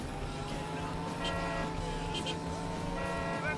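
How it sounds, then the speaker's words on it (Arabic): Car horn honks in the Crazy Taxi video game: short, repeated toots in three bursts over a steady engine drone, with talking throughout. "ايه زمر كيفاش نزمر حم زمر بيب بيب بيب بيب بيب"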